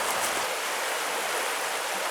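River water flows along a muddy bank during a mudlarking outing, a steady, close, broadband rushing wash with no pauses and no voices.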